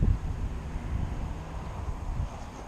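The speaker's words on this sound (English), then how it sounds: "This isn't a good day to fly because it's really windy" Strong wind gusting outdoors in the woods, a low rumbling buffet of wind across the microphone, steady and fairly quiet with a heavier gust at the start.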